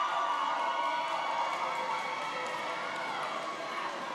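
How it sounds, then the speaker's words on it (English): Roller derby crowd in Boulder roaring and cheering throughout a bout, a steady dense wash of voices at close range with no pauses. "Boulder crowd's going wild."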